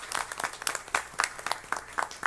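A round of applause at a school board meeting, steady clapping with bursts of louder claps, fairly close.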